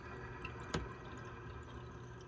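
Water runs steadily into a pre-used water softener tank plumbed with PEX, a constant rushing fill with one brief splashy drip standing out, moderately close.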